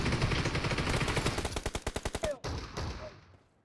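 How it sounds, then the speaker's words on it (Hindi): Shotgun fire in the mobile battle royale game BGMI, a loud burst of rapid repeated gunshots in quick rhythm, ending abruptly, followed by a couple of fainter shots. "देखो इसमें एक शॉटगन चला रहा है।"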